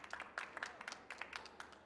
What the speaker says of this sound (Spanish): Un fuerte aplauso también a Norma